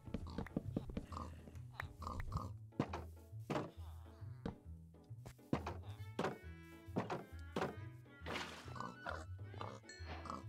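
Pigs in the game Minecraft, with repeated short grunting oinks and thunking hits in an uneven rhythm, fairly close and quiet, continuing throughout.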